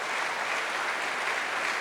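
Sustained applause from an audience at a city's state-of-the-city address honoring the fire department, a steady wash of clapping at moderate volume with no speech over it.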